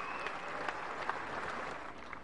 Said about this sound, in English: What about a round of applause for these magnificent cricketers?